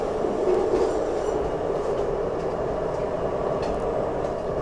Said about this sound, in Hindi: और बाहर ट्रेन क्रॉस करती हुई भारतीय रेल।